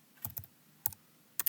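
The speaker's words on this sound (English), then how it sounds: "just type Google Forms" A few brief bursts of keystrokes on a computer keyboard while typing into a Chrome browser search, sharp clustered clicks in three short groups separated by quiet pauses, close and fairly faint.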